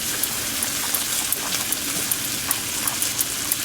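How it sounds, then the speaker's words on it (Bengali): Fried vegetables are added to onions in a pan and sizzle loudly and steadily, with regular stirring scrapes and taps throughout, and no talking. "ভেজে রাখা সবজিগুলো পেঁয়াজে দিয়ে দিচ্ছি, সামান্য লবণ দিয়ে দিচ্ছি,"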